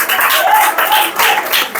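Church congregation applauding during a family service: dense, steady clapping from many hands filling the room, with voices faintly mixed in.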